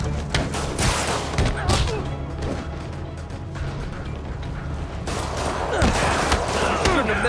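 Rockets fire again and again in Marvel's Spider-Man, a barrage of booming blasts and crashing explosions packed close together, loud and dense throughout, with scattered voices in the background.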